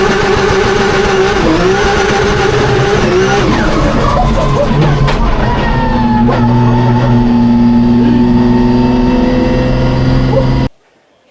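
A GT86 drift car fitted with a 2JZ engine screams through a slide at a Drift Masters event in Finland, loud and close, the engine note rising and wavering before cutting off abruptly.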